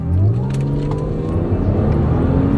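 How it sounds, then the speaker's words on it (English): A car engine hums steadily as the vehicle accelerates to 70 mph, a rising mechanical drone heard from inside, moderately loud with no talking. "I'm going to bring the car up to 70 and then to a standstill with hard braking."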